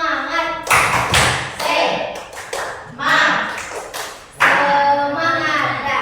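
A class of Indonesian students chants the 'tepuk semangat' cheer in unison, voices mixed with bursts of rhythmic group clapping that rise and fall over several seconds in a classroom.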